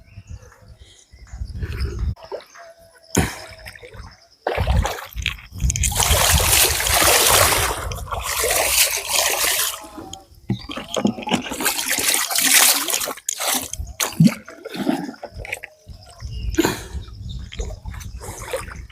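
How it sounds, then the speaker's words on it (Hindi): Water from the Hanuman Dhara stream flowing down through forest near Chitrakoot, a loud rushing, splashing flow in several strong bursts with quieter gaps between, no voices. "ये हनुमान धारा से पानी आता है ऊपर से, और फिर यहाँ जंगल से निकलता है"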